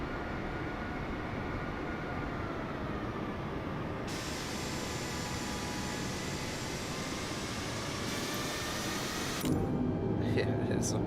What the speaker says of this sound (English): plane's coming onto the runway